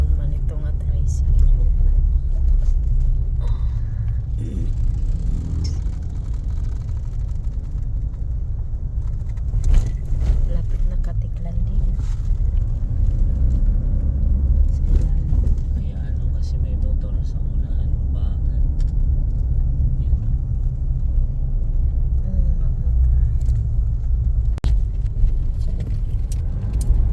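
Motor tricycle riding along a road under an overcast sky, a steady low engine rumble and road noise with rattling and jangling on top, close and continuous while a voice talks over it.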